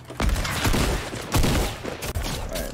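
Rapid gunfire in Fortnite as players shoot at bot bandits, dense overlapping bursts filling the whole stretch with loud, close shots and brief dips between volleys.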